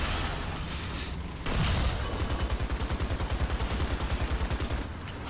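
An M3 Stuart light tank fires in a video game at point-blank range: a sharp loud blast followed by a rapid, evenly pulsing train of gunfire-like bursts, close and dense.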